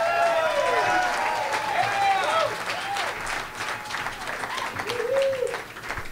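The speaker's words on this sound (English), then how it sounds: "And so let's give a round of applause to Marlon Fisher." An audience at a live local news event bursts into sustained applause that thins out gradually, with a speaker's voice running over the clapping.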